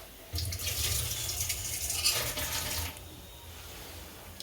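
Water from soaked rice for jeera rice pours and splashes into a sink in a steady, close stream lasting a few seconds, then tapers to a faint trickle.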